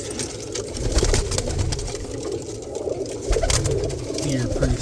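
Roller pigeons coo softly inside a loft, faint murmuring calls blended into a constant broadband background hum and rustle, with no distinct single call standing out.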